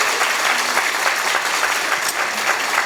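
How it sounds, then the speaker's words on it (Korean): Sustained audience applause at a university lecture hall in Gwangju, dense steady clapping filling the whole stretch at fairly even loudness, with no voice over it. "박수합니다."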